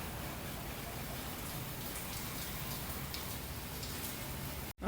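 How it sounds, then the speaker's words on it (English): Water spray rinses parts of a Peterbilt 359 truck during a rebuild, a steady hiss of spatter at even level for the whole stretch, which ends in a brief cutoff, with no voices. "we're just going to go ahead and rinse it back off again."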